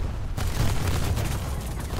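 Gunfire from War Thunder, a dense burst of rapid shots blending into a continuous loud rattle with low booms for about two seconds, no talk.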